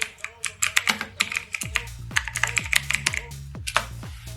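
Computer keyboard typing while practising in Typing Master software, a steady run of quick, close key clicks with sharper taps and thumps from heavier keys mixed in.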